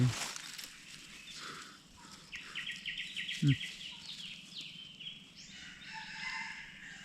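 A jungle fowl crows at a distance in the morning, drawn-out rooster-like calls amid quiet outdoor ambience with a sharp nearby knock midway.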